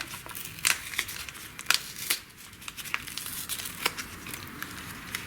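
A plastic bag of mineral foundation refill being torn open by hand, a run of soft crinkles and scattered sharp ripping snaps, close and fairly quiet, with no talking.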